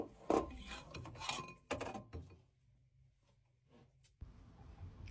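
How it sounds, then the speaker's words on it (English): The plate heat exchanger is worked loose from a Worcester Bosch combi boiler with no hot water, giving close metallic clunks, scrapes and rubbing knocks in an uneven cluster, then a quiet hum and one final knock. "Lift the right hand side of the plate up and you can maneuver it out."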